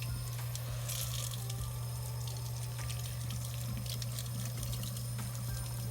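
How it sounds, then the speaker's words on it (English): Warm tap water runs steadily into a sink for washing makeup brushes and beauty sponges, a constant moderate splashing flow with a low hum beneath, no talking. "Try not to turn this water up too loud so you guys can hear me still."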